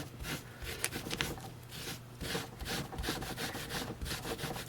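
Gelatos colour rubbed through a stencil onto paper, with quiet repeated scratchy strokes in an uneven back-and-forth rhythm, close and alone.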